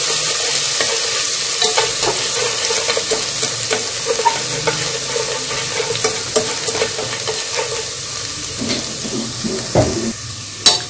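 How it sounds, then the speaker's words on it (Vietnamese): Aromatics sizzle loudly in hot oil, a constant crackling hiss broken by scraping stirs and light clinks of a utensil against the pan. "Dầu nóng lên thì mình sẽ cho hành tỏi cùng vào mình cháy cho nó thơm."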